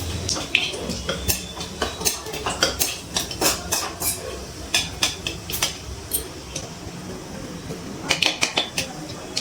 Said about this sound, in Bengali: ফোড়নটা তেলে একটু নাড়াচাড়া করে নিয়েছি।